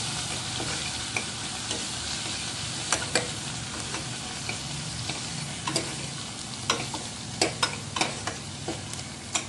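Coriander with ginger-garlic paste sizzles in hot tempering oil for a cowpea curry: a steady close hiss with sharp spatula clicks and scrapes scattered throughout, no voices.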